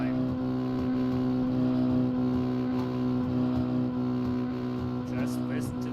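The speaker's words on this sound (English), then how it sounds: "Just listen to that little engine bang off that rev limiter" A small dirt rookie mini stock car engine bangs against its rev limiter at a speedway, a loud, steady droning roar with rapid stuttering pulses, close by, heard alone.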